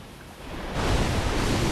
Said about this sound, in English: Luckily, though, less heads, less water blasts.